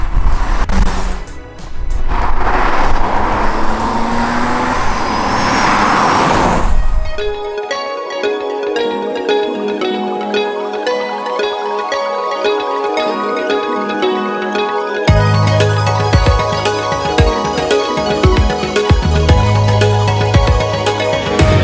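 A 1989 BMW E30 320i Touring drives along with a loud, broad engine and road rumble for several seconds, after which music takes over and the car sound is buried beneath it.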